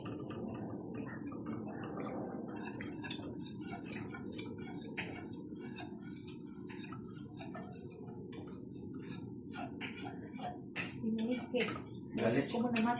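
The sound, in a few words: mixing flour in pan for bechamel sauce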